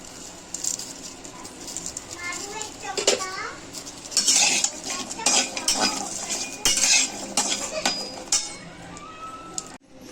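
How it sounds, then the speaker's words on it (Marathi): Whole garlic heads roasting in a pan for a homemade masala paste, with a spoon clinking and scraping against metal in irregular bursts while voices, including a child's, carry on in the background. "आपण लसूण आता भाजून घेऊया एक किलो वाटणसाठी आपण चार अख्या लसूण घेतलेल्या आहेत"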